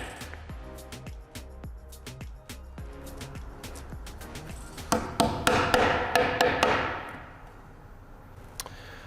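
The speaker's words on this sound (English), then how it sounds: "Then just whack them in with a mallet." A mallet whacks ribbed parts into place on a tightening-machine assembly, a series of sharp rhythmic knocks that speed into a denser flurry before fading to a rattle.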